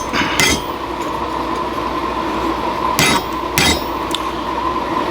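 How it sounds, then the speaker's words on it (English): A hammer strikes hot metal blacksmith tongs in a few sharp, ringing blows spaced well apart, with a continuous forge roar and hum running underneath. "This isn't the right hammer for it."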